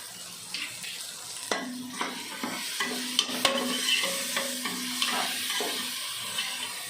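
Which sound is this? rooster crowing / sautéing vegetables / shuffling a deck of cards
sautéing vegetables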